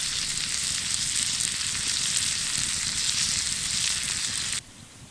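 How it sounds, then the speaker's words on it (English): Vegan steaks sizzling on a fire give a loud, steady crackling hiss, constant and close throughout, then cut off abruptly near the end to a quieter background. "They're going. They're sizzling."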